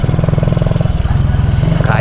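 A 17-year-old motorcycle engine labours up a steep mountain road near Paligawan, Laurel, Batangas: a loud, close, rapid chugging pulse that runs continuously.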